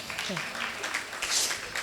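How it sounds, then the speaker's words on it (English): An audience applauds at a charity foundation event, a steady wash of clapping that fills the whole moment, with a brief voice near the start. "Please give her a round of applause."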